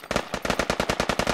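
Rapid automatic gunfire in the military shooter Squad, a tight burst of about a dozen evenly spaced loud shots over little more than a second.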